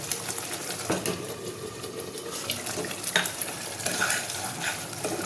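Potatoes stir-fried in spice paste for a rohu fish curry sizzle loudly and continuously, with scraping and stirring strokes against the pan close by and no talking.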